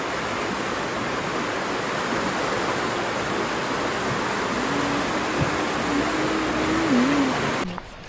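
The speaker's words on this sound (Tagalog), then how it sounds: "Ang lakas ng agos kasi umuulan ngayon." Fast-moving mountain river water, swollen by rain, rushes in a loud, steady roar that continues throughout, then cuts off abruptly at the very end. Lauterbrunnen, Switzerland.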